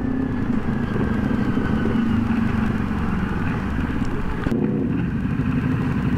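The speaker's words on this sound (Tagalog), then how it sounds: "Kay Sir Ferge, malakas yung ano niya eh, yung pipe niya." An NK400 motorcycle with a new exhaust pipe rumbles loudly up close, the engine held at a steady throaty idle and rev before a brief shift in pitch near the end.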